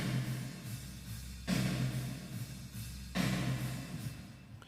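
Wet-only Logic Big Chamber reverb on a snare drum, heard as two long washy bursts of roomy decay with a faint rhythmic bed beneath, no dry attack and no voices.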